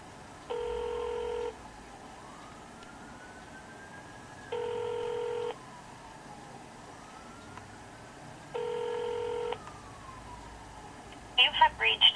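Telephone ringback heard over a phone line during transfer to an extension, three evenly spaced long electronic rings with faint wavering tones between them.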